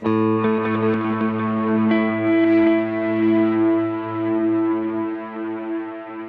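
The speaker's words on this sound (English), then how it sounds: "As you can hear, the delay is really loud." A distorted electric guitar played through a Kemper Profiler rings out sustained chords, with a very loud delay effect repeating and smearing the notes as they slowly decay; no voices.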